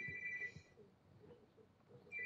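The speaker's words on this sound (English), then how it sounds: "my phone's ringing." A mobile phone rings during an online game session: a steady electronic ringtone tone repeats twice, moderately quiet, with low background noise between rings and no talk.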